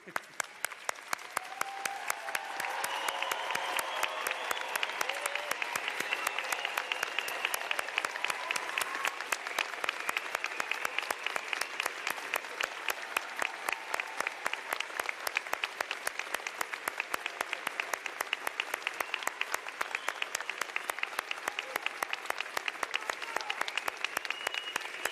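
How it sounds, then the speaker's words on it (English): A graduation convocation audience in a university auditorium rises in a standing ovation, sustained loud applause from a large crowd that keeps going steadily with occasional cheers throughout. "I think this moment merits a standing ovation"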